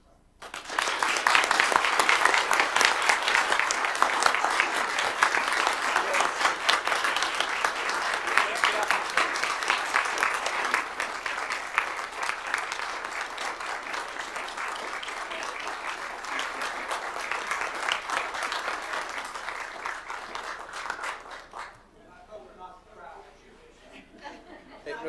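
An audience at a commission meeting applauds a retiring employee with dense, sustained clapping for about twenty seconds, with a few chuckles mixed in. The clapping stops abruptly and leaves a quieter room.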